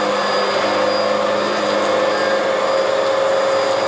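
A Bissell Powerglide Pet vacuum cleaner runs loud and close in a steady, unbroken whine with a strong motor tone, heard alone without talk.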